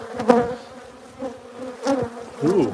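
Honeybees buzz close by around their hive in short, fluttering bursts, their droning hum rising and falling as they move around.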